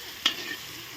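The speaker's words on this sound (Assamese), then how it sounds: "আমাৰ এইফালে মাংস আমি কেৰাহীত দি দিছোঁ দেই ৰাইজ।" Meat frying in a wok, a short burst of sizzle with one sharp stirring clatter, heard close and alone.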